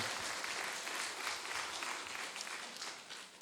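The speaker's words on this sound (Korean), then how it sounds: "우리 이 아이들을 한번 박수로 격려했으면 좋겠습니다" A church congregation at an early-morning special prayer service for Passion Week applauds to encourage the children, a dense, steady wash of many hands clapping that carries through and tapers slightly at the end.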